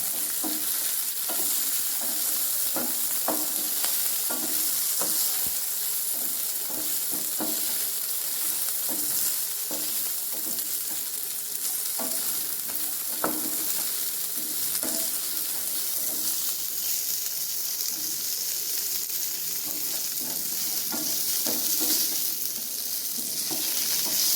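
Small shallots sautéing with spices in a pan while being stirred for a breakfast kadalai curry: a continuous steady sizzle with frequent scraping clicks of the spoon, close and moderately loud, no voices.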